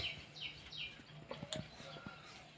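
Soft chirps and cooing from pet pigeons kept at home, faint and intermittent in a quiet indoor space, with a few brief calls scattered over the moment.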